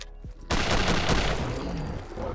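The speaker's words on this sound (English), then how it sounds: "And in 4 shots, that Deathclaw is down as well." Rapid automatic FG-42 rifle fire in Fallout 4, a sudden dense burst of loud overlapping shots after a brief quiet start, sustained to the end.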